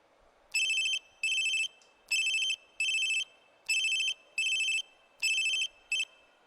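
A telephone rings in steady paired bursts, four double rings of bright electronic trilling over a quiet hiss, close and clear with no voices, the last ring cut short.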